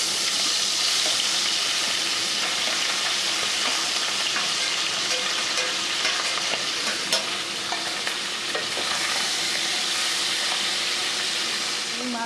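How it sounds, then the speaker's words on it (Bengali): Tangra fish frying in mustard oil, a dense continuous sizzle and hiss that stays loud and steady throughout, with occasional faint pops and scrapes in the pan. "আমি মাছটা ভেজে নিয়ে ফিরে আসছি আপনাদের কাছে"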